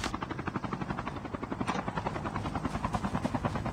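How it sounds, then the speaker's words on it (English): A helicopter arrives in a battle royale shooter game, its rotor producing a loud, rapid rhythmic chopping that pulses steadily throughout with no talk over it. "Incoming helicopter!"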